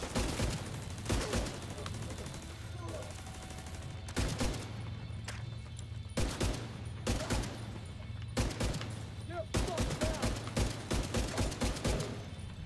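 A mounted turret in a third-person shooter fires in long, rapid bursts, loud and close, broken by short pauses between volleys over a steady low background hum.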